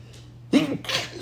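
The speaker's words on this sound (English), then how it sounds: "I'm gonna sneeze." A single sharp sneeze bursts out close by, followed by a short breathy exhale, with a low hum underneath.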